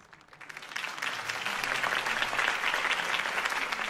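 A crowd applauds Harvey Dent's campaign speech in Batman: The Telltale Series, with dense steady clapping that swells in the first second and holds strong without voices.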